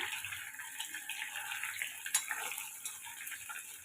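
Soya chunks sizzle steadily in a frying pan as they are turned over, a continuous close hiss with a few light scraping clicks of the flip, no talking.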